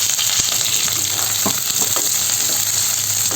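Halved cloves of large garlic sizzle steadily in hot coconut oil for a Kerala-style garlic pickle, a loud constant frying hiss with a few soft stirring clicks near the middle.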